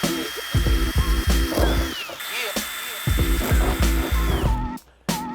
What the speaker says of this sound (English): 4 holes drilled with the pilot hole